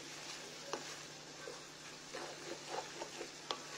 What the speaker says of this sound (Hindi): गाजर को हमें इस तरह से अच्छे से हिलाते हुए घी के अंदर मिक्स कर लेना है।